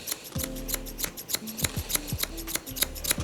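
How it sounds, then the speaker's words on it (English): Barber's scissors point cut elevated hair during a low taper mullet, a quick series of sharp close snips in small bursts with short gaps, no voice present. "I'm gonna elevate the hair and I'm gonna point cut."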